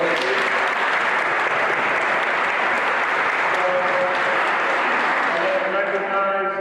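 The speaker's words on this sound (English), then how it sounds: "Round of applause, please." A seated audience claps at a public event honouring women, a full steady burst of applause that holds strong for several seconds before thinning slightly near the end.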